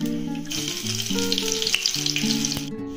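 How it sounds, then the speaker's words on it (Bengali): Black cumin seeds and crushed garlic hit hot oil in a pan with a loud, dense, continuous sizzle, close up, with faint music below it. "এবার তেলের উপরে দিয়ে দেবো কালো জিরে, আর দেবো কিছুটা পরিমাণ থেতো করা রসুন।"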